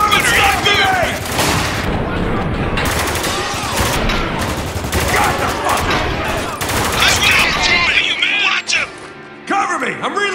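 Heavy gunfire rattles through a shootout in Spec Ops The Line, with dense overlapping bursts and booms continuing almost without pause, loud and close, while voices shout over the fighting.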